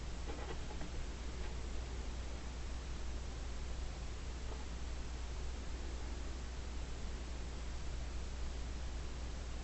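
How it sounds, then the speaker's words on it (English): A pen scratches across paper while drawing a set of x, y and z axes, a faint, steady scraping over soft background hiss with no talking. "Now I want to draw this vector, and so I'm going to make some axes."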